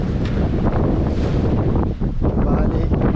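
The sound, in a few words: gust of wind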